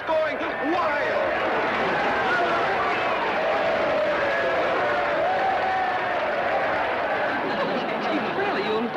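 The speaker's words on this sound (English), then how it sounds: "This crowd is going wild." After a wrestling-ring fight, a crowd roars and claps in a steady, dense wash of cheering, chatter and applause, loud and continuous with voices blended in throughout.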